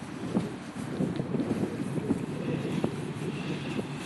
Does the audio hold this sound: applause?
no